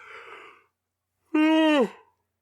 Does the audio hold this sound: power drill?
no